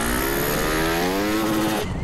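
A Honda XR motorcycle in a GTA street-riding game revs hard, its engine a loud, steady, close buzzing drone with rising harmonics that drops off just before the end.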